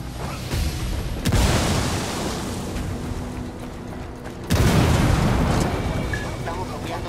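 A frag grenade explodes in Ghost Recon Wildlands: a loud booming blast, then a second heavy explosion a few seconds later, with rumbling combat noise continuing between them.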